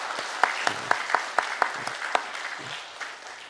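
Church congregation clapping during a Sunday worship service, a short burst of scattered, distinct hand claps heard at moderate distance, fairly light and thinning out within a few seconds.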